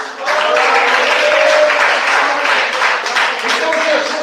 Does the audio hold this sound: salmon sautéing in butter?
no